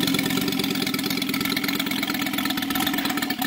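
A 125cc UMS five-cylinder model radial engine on a 1/3 scale triplane runs loud and close with a steady, rapid throbbing roar.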